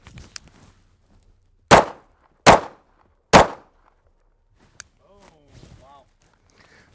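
Three sharp, loud pistol shots fired at a range from a handgun with a red dot sight, evenly spaced under a second apart, followed by a fainter distant crack and a short spoken exclamation.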